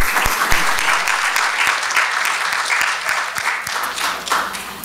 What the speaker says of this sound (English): Let's give a round of applause to the candidate.